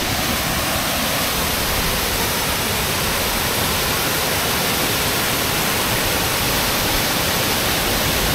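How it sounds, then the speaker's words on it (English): Fast-running stream water rushing beneath a road in northern British Columbia, a steady, loud broadband roar without pause, close by and constant throughout. "it goes underneath the road here and into this water, which happens to be running very fast"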